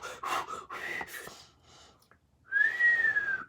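A voice imitates a whistle: a bright, rising-then-falling tone held for about a second, following some breathy vocal noises and a brief pause.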